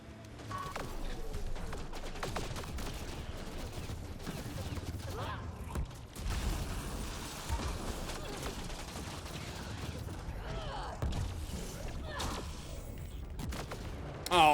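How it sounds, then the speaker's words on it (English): Heavy weapons fire in the video game Mass Effect: Andromeda, with rapid, continuous gunfire bursts and impacts throughout and voices at times. "I detect heavy weapons fire nearby"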